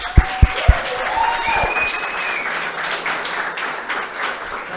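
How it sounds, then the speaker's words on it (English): A crowd at a graduate research presentation event applauds: a few loud, distinct claps open, then steady clapping continues across the room, with faint voices mixed in. "round of applause."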